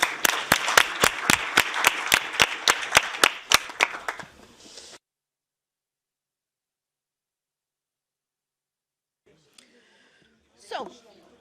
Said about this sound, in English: So big applause to the speakers